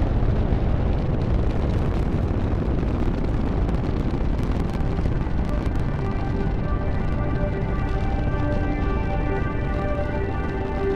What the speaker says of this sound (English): Booster ignition and liftoff of Discovery, hoisting harmony to the heavens